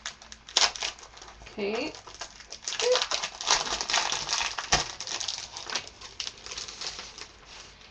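Scissors cutting paper pieces for an advent calendar craft, a close series of crisp snipping and rustling sounds in irregular rhythm, with one brief spoken word.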